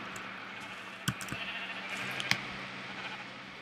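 Sheep on a Minecraft sheep farm give a couple of short bleats over a quiet, constant game background.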